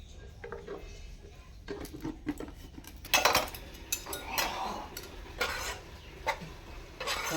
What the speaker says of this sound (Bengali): ননস্টিকের একটা চাটু বসিয়ে দিলাম। অল্প একটু ময়দা ভেজে নেব।